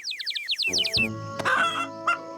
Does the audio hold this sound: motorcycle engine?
no